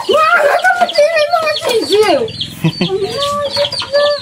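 Chickens and chicks cluck loudly and close by in a rural yard, with rising and falling calls that continue throughout. A person talks over them.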